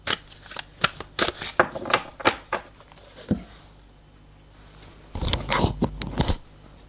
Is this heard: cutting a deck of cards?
yes